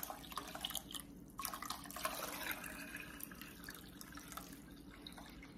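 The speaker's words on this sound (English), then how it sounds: "we're gonna add some more water to the beans" Water pours from a tap into a pot of Great Northern beans for stew, a faint splashing and trickling stream in a kitchen, gently uneven, with no talking.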